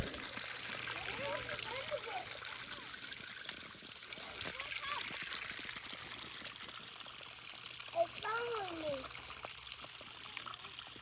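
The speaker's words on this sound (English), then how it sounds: "It even has a gurgle to it." Water released from a homestead pond trickles and gurgles steadily at low level, with a faint broadband wash and a few brief splashy gurgles, no talking heard.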